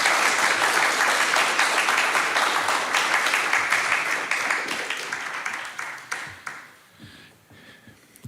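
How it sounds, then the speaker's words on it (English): A church congregation applauds after music at a Sunday service, dense steady clapping that fills the room for about six seconds, then thins into scattered claps and fades out. "And another round of applause for Anna and all of the beautiful music."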